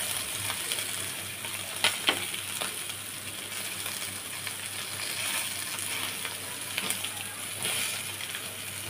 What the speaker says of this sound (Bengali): একটু কড়া করে আমি মাছগুলোকে ভেজে নিব।